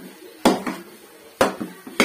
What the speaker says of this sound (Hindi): सलसल ऐसे चम्मच चलाते रहना।